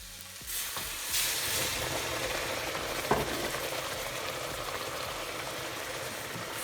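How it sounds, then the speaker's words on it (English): Boiling water pours into a pan of semolina with a steady sizzling hiss, continuing as the mixture is stirred, with a brief clink partway through. "to that, you are going to add your 1 cup of boiling water."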